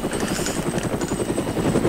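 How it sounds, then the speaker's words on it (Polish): Helicopter rotor thumping steadily in the video game James Bond 007: NightFire, a loud, continuous chopping drone with rapid low pulses throughout, no voices. "Helikopter, słyszę."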